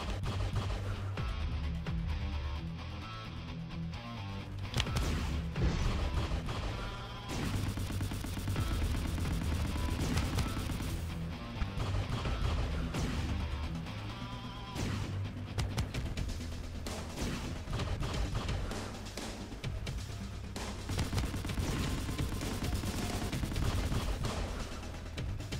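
Relentless rapid-fire shooting from a boss attacking the player's starfighter in the space shooter Astro Flame Starfighter, dense overlapping blasts and bursts that stay loud the whole way, backed by driving game music.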